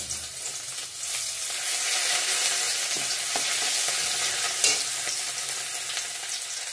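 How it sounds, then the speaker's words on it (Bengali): Ginger hits hot oil already tempered with dry red chili, cumin and bay leaf, giving a steady, close sizzle with light crackles and one brief stirring knock, no voices. "আমি এইখানে শুকনো লঙ্কা, জিরা, তেজপাতা দিয়ে দিছি ফোড়নে।"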